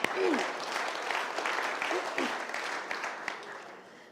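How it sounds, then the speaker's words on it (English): An audience at a mayor's State of the City address claps steadily, a moderate wash of applause held throughout the short stretch at a slight distance. "we should clap for that"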